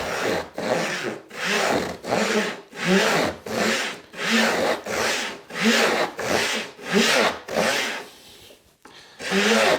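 A hand saw rasps back and forth through wood in steady, even strokes, about one per second, close and loud.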